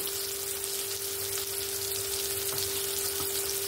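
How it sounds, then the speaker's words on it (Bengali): Chopped onion and tomato sizzle with salt in a pan, a steady, dense frying hiss that carries on evenly throughout with faint stirring ticks and no speech. "পেঁয়াজ আর টমেটোটা সুন্দরভাবে ভাজা হয়ে গেছে"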